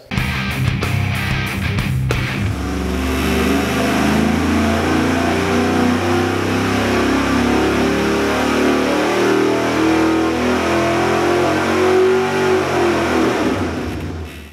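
Small-block Chevy crate engine with a supercharger running on a dyno, roaring loud and close as it revs up, holds a sustained high-rpm howl, then winds down at the end.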